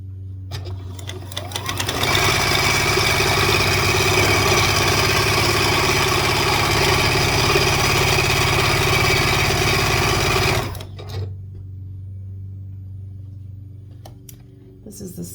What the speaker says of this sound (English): head to the sewing machine